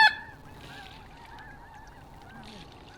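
Geese honking at a moderate distance during a duck hunt, several scattered calls over a low outdoor background hum.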